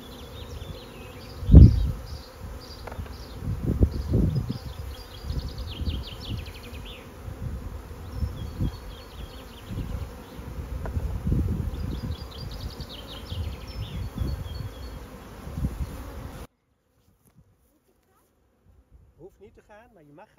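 Honeybees buzzing steadily around queen-rearing frames at an open hive, close and dense with shifting tones, a few thumps and handling noises, ending in near silence.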